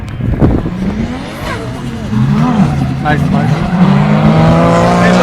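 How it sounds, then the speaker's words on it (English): Race cars drifting at a competition event, tires squealing and engines revving amid smoke, with a sustained screech building over the last seconds and a voice speaking briefly near the start. "That car seems to just shoot forward in the corners. An incredible amount of smoke."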